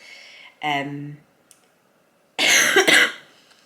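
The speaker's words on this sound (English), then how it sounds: "So you can still hear my cough" Two separate bursts of harsh coughing, close to the mic, with a short quiet gap between them.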